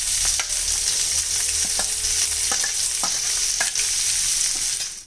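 Chopped garlic, ginger and onion for onion kachori filling fry in hot oil with a loud, steady hiss and sizzle, punctuated by occasional spatula taps and scrapes, close up and without talk.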